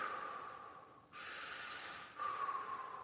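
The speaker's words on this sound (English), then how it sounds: "That's the internal breathing." Qi gong internal belly breathing, a long hissing breath through the nose or mouth, close and fairly loud, in two drawn-out phases separated by a brief pause.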